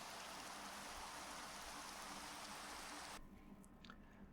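Dense, hissing video game rainfall that pours steadily, then cuts off abruptly near the end, leaving faint scattered ticks.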